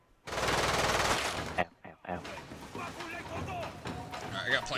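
Gunfire in the video game Lost Planet 2: a loud, dense burst of automatic fire, a short pause, then further shooting under excited talking.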